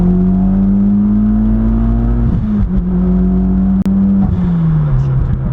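A turbocharged Mitsubishi Evolution X with about 390 wheel horsepower pulls hard in third gear toward 5,000 RPM, its engine drone steady and close, briefly dipping around shifts or lifts, with faint talk over it.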